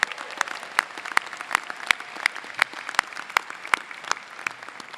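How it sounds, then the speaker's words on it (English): Scattered claps ring out from a small group at a graduation ceremony, sparse distinct hand claps at an uneven rhythm over a quiet room. "give yourselves another round of applause for being here"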